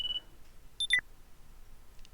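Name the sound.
phone ringing in a visual novel game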